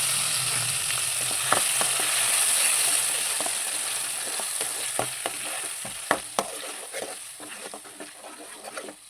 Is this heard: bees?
no